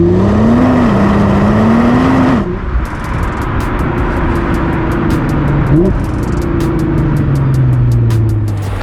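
A Nissan GT-R R35 engine drones steadily while driving, with a shifting pitch as it pulls, a gear change partway, and a sustained cabin hum with road rumble throughout.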